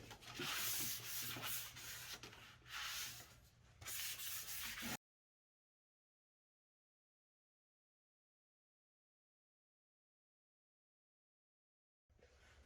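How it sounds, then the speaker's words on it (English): A 220 grit sanding sponge rubs across a shellac-coated wooden furniture base in steady back-and-forth strokes, close and fairly loud, then stops abruptly into silence before resuming briefly at the end. "I lightly sanded the shellac surface with a 220 grit sanding sponge"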